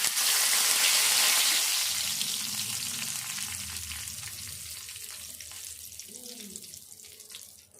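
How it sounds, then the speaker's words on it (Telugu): Curry leaves hit hot oil in a pan for an onion chilli dish, setting off a bright, loud burst of sizzling that slowly fades into a quieter, steady fry. Soft clinks come near the end. "కరివేపాకు వేసినప్పుడు నూనె అంతా జిలుతుంది కదా"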